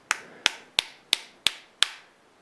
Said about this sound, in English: And I'm actually hitting it with some decent force here.